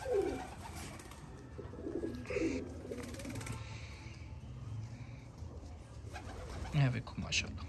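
Parwazi flying pigeons coo softly amid a hazy, noisy background, the low throaty calls recurring under intermittent human speech.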